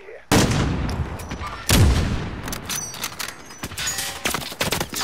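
Gunfire in Warzone, two loud close bursts followed by a rapid string of sharper shots and scattered cracks, with faint battle noise between them.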